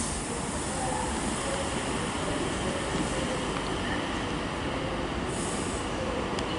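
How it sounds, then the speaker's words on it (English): A Virgin train arriving at Stockport station on the West Coast Main Line, the Manchester Piccadilly to London Euston service, rumbles loud and close with its wheels squealing steadily throughout. "arriving now is the 12:43 Virgin train service from Manchester Piccadilly to London Euston"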